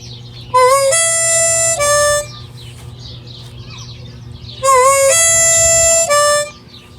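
Harmonica plays a riff twice, a 3 draw bending into a 4 draw, sliding over to a 4 blow, each phrase bright and loud over a low background hum, with a pause between repeats.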